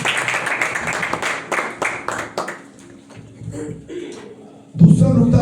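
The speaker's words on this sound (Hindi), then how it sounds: "जोरदार ताली" A church congregation bursts into loud applause just at the end, right after a man preaches in a raised, echoing voice.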